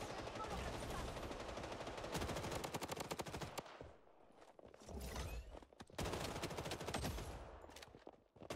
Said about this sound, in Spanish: Le disparo y no lo mato.